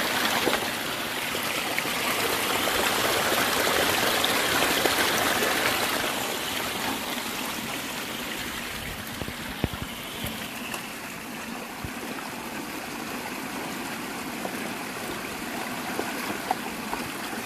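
A river stream flows in a steady, broad rushing wash that is a little fuller at the start and then settles. It is fairly close and continuous, with small splashes and no voices.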